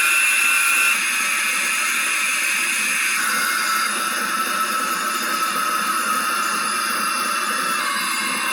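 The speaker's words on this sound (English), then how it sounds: "And engine shutdown." Model Sounds Inc. sound system on an FMS A-10 model jet winding down at engine shutdown: a loud, steady turbine hiss with high tones dropping in pitch, alone, without voices.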